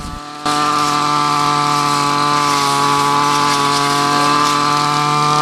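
Motorized brush mower cutting ragweed, a loud continuous high-pitched two-stroke engine whine that starts abruptly after a brief pause and holds steady throughout, with no talking.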